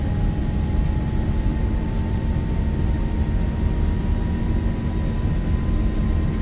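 Boeing 737 jet engines roaring at high thrust during a takeoff roll down the runway in a flight simulator, a loud, steady, broadband rumble with a faint whine, no voices.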